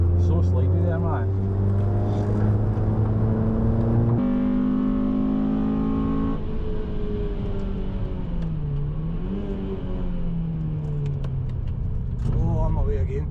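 A rusty Honda Civic Type R pushed hard around a Formula One Grand Prix circuit, its engine droning loud and continuous with shifting revs as the back end slides, while a driver talks over it throughout.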